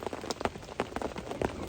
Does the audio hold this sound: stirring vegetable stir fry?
no